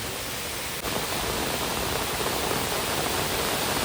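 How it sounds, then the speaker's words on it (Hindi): Very heavy rain pours down in Haridwar as a dense, unbroken roar that fills the whole stretch at constant loudness, with no pauses. "बादलों ने भी अपनी उपस्थिति दर्ज करा दी है, बहुत ही तेज बादल बरस रहे हैं।"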